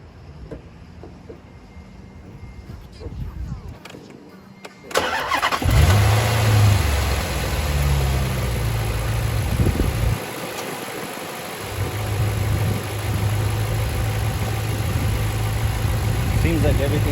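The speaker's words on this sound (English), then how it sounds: "let me go inside and turn on the car" A 2006 Dodge Charger R/T with a replaced throttle body cranks and starts after a few seconds of quieter background, then settles into a steady, loud, close idle that continues with slight variations in rumble.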